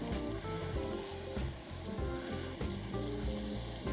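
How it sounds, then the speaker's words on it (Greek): Butter sizzles and crackles on a hot salt slab, a dense, continuous frying hiss with faint stirring, steady and close with no voices. "Πάνω στην πλάκα αλατιού θα ρίξω βούτυρο. Θα κάψω βουτυράκι."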